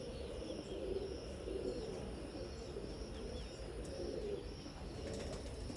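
A large female pigeon coos softly at a distance, low murmuring calls under a faint steady background hum, with no talk.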